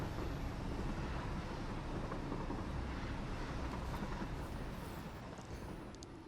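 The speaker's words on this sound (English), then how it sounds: "Then we're just gonna wait for the train to arrive, I guess." Train arriving in the video game Satisfactory, a steady broadband rumble with wind-like noise that holds loud and even, then eases slightly near the end.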